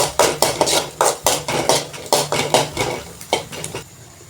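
A spoon scrapes and clinks against a pan in quick, regular strokes, about fifteen sharp hits, as vadagam seasoning fries in sesame oil, close and loud with no talk.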